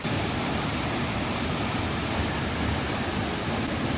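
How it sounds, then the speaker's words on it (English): A powerful waterfall near Munduk, Bali, roars steadily and loudly, a dense, unbroken rush of falling water with no voices. "That is a powerful waterfall."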